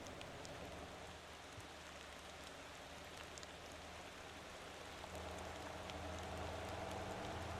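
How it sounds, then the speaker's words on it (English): Rain in the driving game Motor Town: Behind the Wheel, a faint steady patter of drops on surfaces with a low hum beneath, growing slightly louder near the end, with no talking. "And it starts raining. Of course it starts raining."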